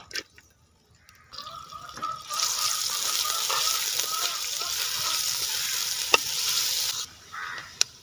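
Half an onion hits hot coconut oil in a pan and sizzles loudly and steadily after a brief pause, with occasional stirring clinks, close to the pan.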